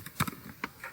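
Several quick keystrokes on a computer keyboard as an IP address is entered during network setup on Kali Linux, close and clear, in uneven bursts with brief gaps.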